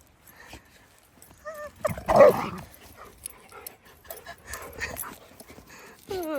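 A dog barks and yips in short scattered bursts at moderate distance, with some whimpering between, fairly faint and without talk.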